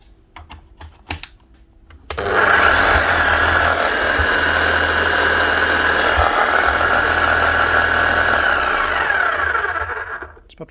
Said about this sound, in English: The hammer doesn't sound bad.